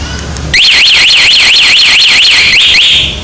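A remote-triggered anti-theft alarm on a Yamaha NMAX 2021 motorcycle wails as a loud, close electronic siren, rising and falling in a steady rapid cycle for about three seconds before settling on a held tone.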